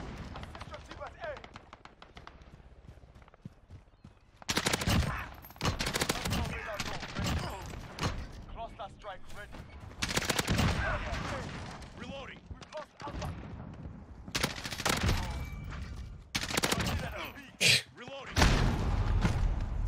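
An M4 rifle fires in a video game, rattling off loud repeated bursts of automatic gunfire with short pauses between volleys, while a player talks over the shooting.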